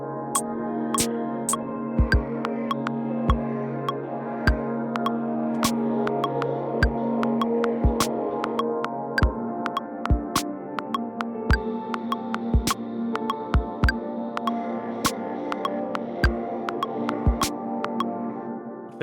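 A CR-78 drum machine pattern run through distortion: regular, punchy hits over a thick sustained droning tone, steady and loud with no voices.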